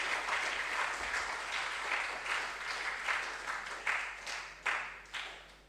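Audience applause at a junior high school science and maths quiz in Ghana's Ashanti Region, a sustained burst of clapping from a seated crowd that swells in a few waves before fading out.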